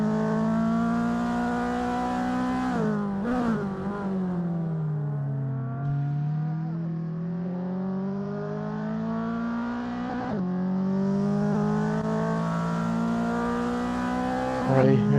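Race car engines in the Assetto Corsa sim racing game during a touge tournament, several cars droning and revving loudly with rising and falling pitch as they shift gears, continuous and close with no pauses.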